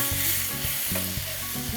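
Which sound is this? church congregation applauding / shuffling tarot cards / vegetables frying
vegetables frying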